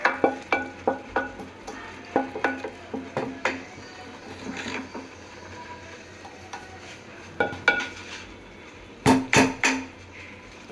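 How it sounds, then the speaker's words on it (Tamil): A spoon scrapes cooked wheat halwa out of a cooking pan in repeated sharp scraping and knocking strokes, steady at first, then a pause, then a few louder hits against the metal near the end. "சட்டியில் இருக்கிறதெல்லாம் நல்லா வலிச்சு விட்டுக்கலாம்"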